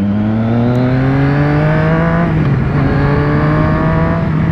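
A Volkswagen Beetle (Fusca) engine drones close and steady, its harmonic buzz climbing slowly in pitch before a brief dip partway through, then holding on.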